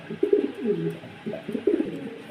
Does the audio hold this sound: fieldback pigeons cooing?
yes